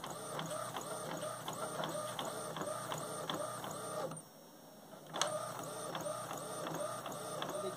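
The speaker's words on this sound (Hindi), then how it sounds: "यहाँ पर डायरेक्ट मैं इसको प्रिंट दे दे रहा हूँ।" A printer printing a photo for a bedsheet, a quiet, steady mechanical whir with regular rhythmic clicks that drops out for about a second and then resumes with a small clunk.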